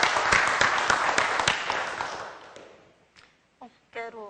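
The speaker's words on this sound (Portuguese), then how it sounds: "Recebendo os aplausos!" Audience applause at a psychology graduation ceremony, moderately loud for the first couple of seconds, then dying away, with a voice beginning to speak at the very end.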